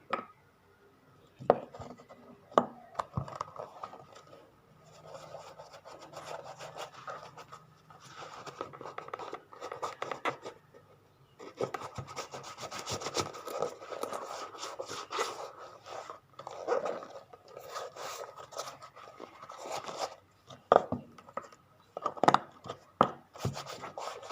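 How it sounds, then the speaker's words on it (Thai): Leather shoe sanded by hand before spa cream goes on, a steady close scratching and rubbing that keeps going for a long stretch, with some pauses and harder strokes. "อย่างน้อยเราต้องขัดก่อน ขัดก็คือกินแบบนี้"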